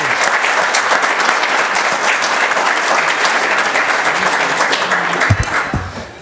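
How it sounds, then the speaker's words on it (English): Audience at an Ohio panel event on urban air mobility applauds the panelists and speakers, a loud, dense round of clapping that holds steady for several seconds before trailing off with a few thumps. "So another round of applause."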